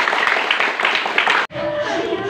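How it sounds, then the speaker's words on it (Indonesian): Children applauding at an elementary school reading-corner event, a dense burst of clapping that stops abruptly halfway, followed by a different, quieter scene with a voice and background sound. "boleh tepuk tangan yang meriah."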